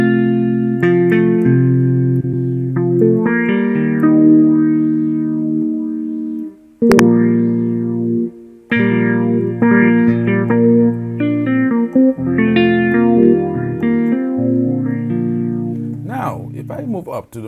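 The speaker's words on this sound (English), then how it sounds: "Let's pick another sound like a jazz guitar." Jazz guitar tone from a multi-effects unit plays a clean, sustained run of chords and single notes, loud and steady with two brief gaps, ending in a short scratchy flourish.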